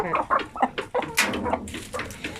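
Roosters in a backyard pen clucking and crowing in rapid, loud, close bursts.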